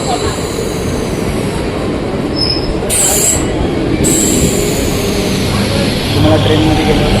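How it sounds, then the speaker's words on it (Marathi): A crowded passenger train pulls into a station, its wheels giving loud sustained high squeals over a steady rumble of rolling cars. "तुम्ही बघू शकता ट्रेन आता आलेली आहे."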